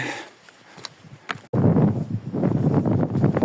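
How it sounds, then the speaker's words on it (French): Strong wind buffets the microphone outdoors beside a small chapel on a pilgrimage route, a quieter gusty first half giving way after a sharp cut to a loud, continuous roar of wind noise. "Petite chapelle, beaucoup de vent."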